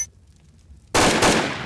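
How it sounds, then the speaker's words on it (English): Fire roaring in the Garry's Mod DarkRP video game, a sudden loud broadband crackling rush bursting in after near-silence and holding steady to the end. "I hear fire"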